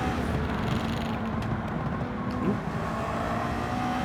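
A hypercar engine in Gran Turismo 7 on track, a continuous loud, aggressive drone held steady with a slight dip in pitch midway, no talk over it.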